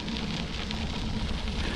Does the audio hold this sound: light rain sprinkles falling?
yes